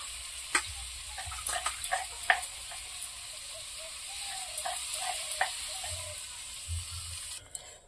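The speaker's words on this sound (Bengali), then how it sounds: "মশলা ধোয়া জলটা দিয়ে দিয়েছি, আর কোনো জল দেব না।" Water used to rinse the masala bowl poured into a frying curry of lai leaves and pencil fish, with sizzling, crackling spits and a few sharp ticks under a steady hiss, fading near the end.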